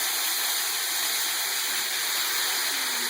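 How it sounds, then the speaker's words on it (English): Beef broth and wine are poured slowly into a roasting pan, a steady, close splashing rush of liquid that holds even throughout. "We're going to slowly pour this in the pan."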